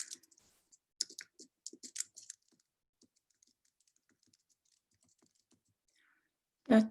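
Keys tapped on a computer keyboard in short bursts of clicks, with several quick strokes early, then sparse faint taps and a louder thump at the end.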